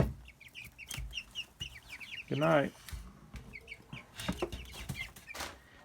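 Baby chickens about six weeks old chirp and cluck close by in repeated short calls, with one louder cluck in the middle and a person speaking briefly over them.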